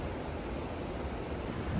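Continuous roar of Nevada Falls waterfall in Yosemite, heard from the bottom of the falls: a steady, dense broadband rush filling the whole clip with no pauses, loud and close, with no voices over it.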